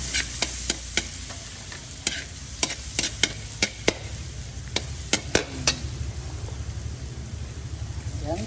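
Garlic stir-fried in a pan, a steady crackling sizzle with sharp scrapes and taps of a utensil against the pan at irregular intervals.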